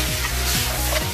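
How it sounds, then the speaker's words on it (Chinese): Spices stir-fry in a wok for a free-range pheasant dish: a loud, dense sizzle close by, with rhythmic scraping strokes of the spatula about every half second. "下香料炒香"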